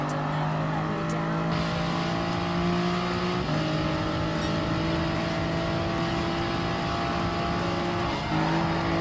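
A race car in Gran Turismo Sport overtaking a Honda NSX, its engine holding a loud, steady high drone with sudden pitch drops at gear shifts, heard up close and continuous.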